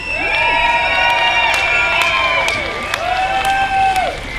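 A large crowd at an anti-war demonstration in a park cheers loudly and continuously, with shouts and high whoops rising over the din, a few sharp claps punctuating the roar.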